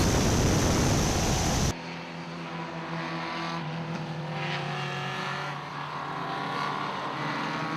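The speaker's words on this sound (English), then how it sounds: "John Target in the number 612 from Akron, Ohio on a 64 MGB" Vintage 1964 MGB race cars at Grattan Raceway, a loud burst of wind and engine noise giving way to a steady, fairly distant engine drone with a rising pitch as cars run the circuit.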